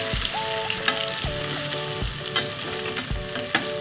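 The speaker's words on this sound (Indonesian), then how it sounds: "Sekarang saya akan goreng lagi ayamnya" Chicken pieces fry a second time in hot oil for crispy fried chicken, with a steady close sizzle and crackle. Soft clinks of a utensil come and go, and no one speaks.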